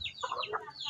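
Home-hatched chicken chicks cheeping close by, a quick run of short, high chirps over a faint background.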